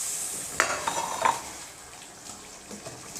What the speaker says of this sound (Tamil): மீனை சேர்த்துட்டு நல்லா கலந்து விட்டுடலாம்.